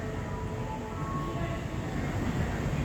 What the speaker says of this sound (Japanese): 番線に電車が参ります。